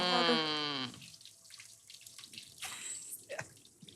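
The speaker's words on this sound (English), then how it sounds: "Next, some warm beef stock." Warm beef stock pours into a pot of onions and sherry with a steady watery splash that trails into softer sloshing and a few drips, no voices over it.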